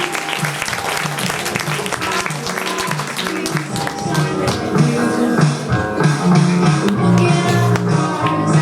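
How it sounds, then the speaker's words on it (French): Audience applause at an E-KI-TE fashion show runway, a steady wash of many hands clapping that swells louder in the second half while music plays underneath. "Vous pouvez l'applaudir."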